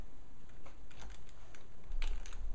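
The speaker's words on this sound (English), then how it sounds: "paste it in there or type it in there and enter." Fingers typing on a computer keyboard, a quick run of light close clicks and taps that grows a little denser toward the end, with no voices.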